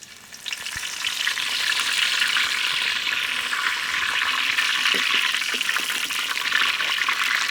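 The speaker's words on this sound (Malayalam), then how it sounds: "നമുക്കിത് വെളിച്ചെണ്ണ വെച്ച് കൊടുക്കാം. ഇനി ആദ്യം തന്നെ നമുക്ക് കരിവേപ്പില അങ്ങനെ ഇട്ട് കൊടുക്കാം കേട്ടോ." Curry leaves hit hot coconut oil in a clay pot for toddy-shop style curry, bursting into a loud, steady, close hiss and crackle that holds without pause.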